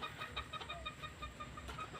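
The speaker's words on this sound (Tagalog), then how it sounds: "may nag-iingay ng mga manok" Chickens clucking near a poultry training area in Guimba, Nueva Ecija, with short repeated calls in an uneven rhythm over steady background noise.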